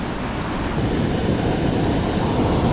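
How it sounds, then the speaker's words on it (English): Big waves break and wash on a New Zealand beach, a broad continuous roar of surf mixed with wind buffeting the microphone, loud and close, with no speech. "Look down to the big wave. Big waves."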